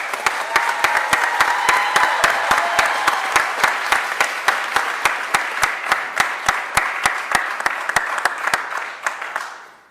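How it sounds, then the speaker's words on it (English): A crowd at a Philadelphia mayoral event applauds warmly for a newly appointed prisons commissioner, with dense clapping and some sharp individual claps that slowly taper off. "Put a huge round of applause together for Charlene Waller."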